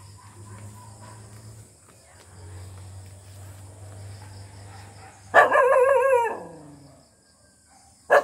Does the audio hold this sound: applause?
no